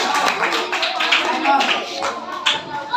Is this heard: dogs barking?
no